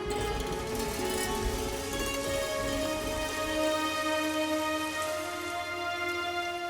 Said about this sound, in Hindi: दूसरे दिन बहुत तेज बारिश हो रही थी